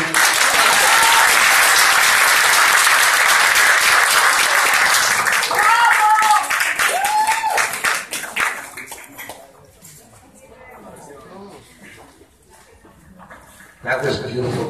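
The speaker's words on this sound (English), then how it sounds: "Can we give her another round of applause for Annalise and Annalise Brigitte?" Applause from an audience after a poem recital at a women's recognition event, loud and sustained clapping with cheers that thins out over several seconds, followed by quieter crowd murmur and a brief burst of renewed noise at the end.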